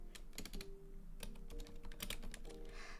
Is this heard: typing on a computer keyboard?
yes